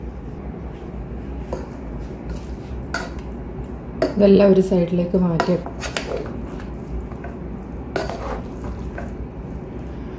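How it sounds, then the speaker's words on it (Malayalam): Mutton biryani is shifted into a serving vessel with clattering metal pots and utensils, a burst of scraping and clinking in the middle, while a person talks intermittently. "മട്ടൺ പീസ് ആദ്യം ഈ പാത്രത്തിലേക്ക് ഇടാം."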